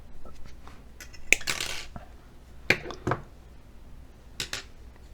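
A plastic part cut during a repair of a 1965 piece, a few sharp isolated snips and clicks spaced a second or so apart over a low room hiss, close by, with no talking.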